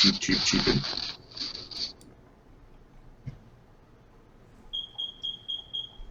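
A fire alarm chirps in a home, a thin high electronic beep that repeats in short pulses and is heard faintly under voices talking over an online call.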